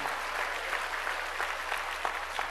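A church congregation claps together during a Korean worship service, a steady, dense, moderately loud wash of many hands with no voices on top.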